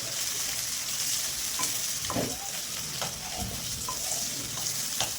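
Two chopped medium onions fry and soften in a pan for Bengali katla kalia, a steady broad sizzle running throughout with a few soft scrapes of stirring scattered across it.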